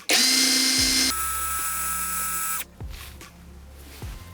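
A Dnipro-M DTD 201BC cordless impact driver spins at its second speed setting, with a steady loud whine after a brief higher-pitched start that cuts off sharply, followed by a few clicks and faint handling noises.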